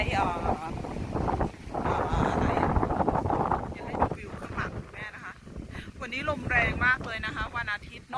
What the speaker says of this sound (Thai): ลมแรงมากๆนะคะ